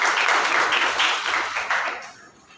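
Conference audience applause, a burst of many hands clapping that holds briefly and then fades away.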